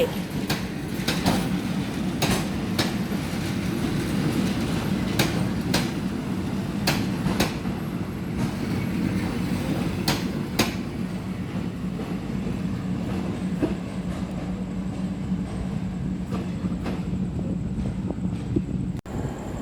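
Bangkok feeder train with a narrow Quinland carriage running on rails, a loud continuous rumble with repeated clickety-clack wheel beats over rail joints and wind buffeting the microphone, close and sustained throughout with no voices.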